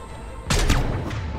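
A couple of sharp, booming blasts from a shotgun in Mass Effect 3 ring out in quick succession, loud and close, trailing off into a short echo.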